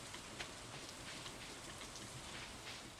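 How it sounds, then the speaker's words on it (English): Rainfall in the farming game Stardew Valley, a soft, even patter of drops with no talk, quiet and steady throughout. "it's raining right now"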